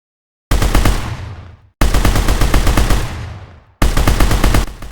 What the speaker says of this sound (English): Let's test the game and start shooting.